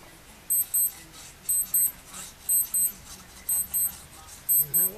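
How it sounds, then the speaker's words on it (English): A wristwatch beeps in paired bursts, five double chirps spaced about a second apart, high and clear over a quiet room with faint handling noise. "And my watch is beeping."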